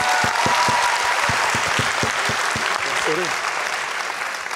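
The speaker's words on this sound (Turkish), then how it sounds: "Alkışlarınızla." A television talent show studio audience claps steadily and loudly throughout, with a few sharp individual claps standing out near the front and faint voices mixed in.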